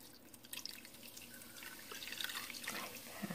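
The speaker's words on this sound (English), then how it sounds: "Then I'm going to slowly pour my Coca-Cola into the pot so I don't splatter everywhere." Coca-Cola poured slowly into an Instant Pot over chicken wings, a soft close splashing and trickling of liquid with faint drips, steady and alone.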